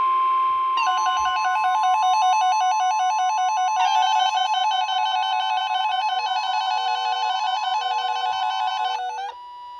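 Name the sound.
weather alert radio alarm tone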